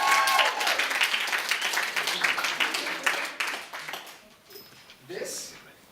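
A comedy show audience bursts into applause and cheering, loud and dense at first, then fading out after a few seconds as a voice begins speaking over the tail end.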